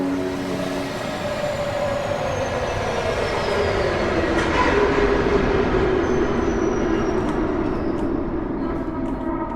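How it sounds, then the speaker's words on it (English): A train pulls into a station platform, a steady loud rumble of wheels and carriages with rising and falling squeals and hiss as it slows, continuous throughout with no talking. "That's my train."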